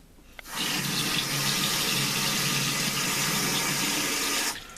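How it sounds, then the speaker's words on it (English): Kitchen sink faucet runs water steadily into a bottle for about four seconds, a loud continuous broadband rush that starts and stops abruptly, with no talking. "And I fill the whole thing with water"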